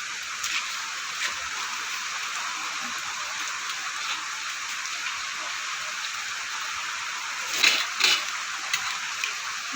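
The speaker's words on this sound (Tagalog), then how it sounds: "Ay, ang lakas ng ulan." Heavy rain pouring steadily outdoors, a dense continuous hiss of drops on surfaces with a few louder splashes near the end, and no talk.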